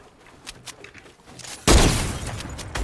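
Gunfire in Fortnite, a loud burst erupting partway through and ringing out as a dense, decaying volley after a few quieter scattered pops.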